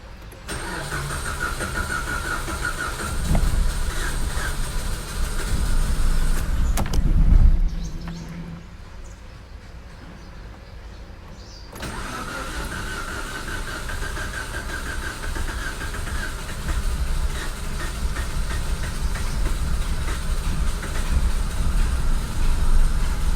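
A Mitsubishi GDI engine cranks and catches, then runs rough and loud up close. Its rumble dips for several seconds midway before the rough idle resumes and holds steady.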